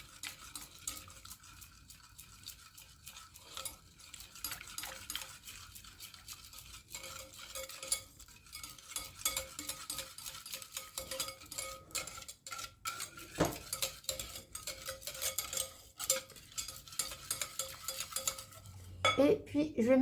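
Lemon juice being stirred into sweetened condensed milk in a bowl, a spoon scraping and clinking steadily and continuously for the whole stretch, close and moderately loud with no talking.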